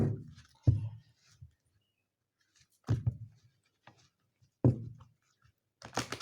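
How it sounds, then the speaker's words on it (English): Oracle cards shuffled in a few separate bursts of soft riffling and tapping, close and quiet, with short silent gaps between each shuffle. "One more shuffle"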